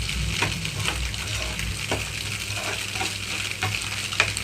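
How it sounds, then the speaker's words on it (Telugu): Egg stirred as it fries in a pan on medium flame for onion egg fried rice: a continuous soft sizzle broken by regular spatula scrapes and taps, close and moderate in level, with no speech. "ఎగ్ అంతా కూడా కొంచెం కదిలిస్తున్నాను ఇలా మీడియం ఫ్లేమ్లోనే ఉంచి రెండు మూడు నిమిషాల పాటు వేయించుకోవాలి"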